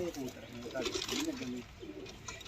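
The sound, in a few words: pigeon cooing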